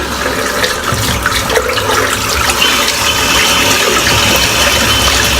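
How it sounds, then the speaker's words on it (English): A tap runs steadily while a shaving brush is rinsed at a sink, giving loud, continuous close splashing with no talk. "I'm just going to rinse the brush out."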